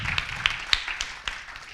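Scattered claps from an audience at a university student-activities orientation event, a few sharp separate hand claps rather than full applause, brief and moderately loud.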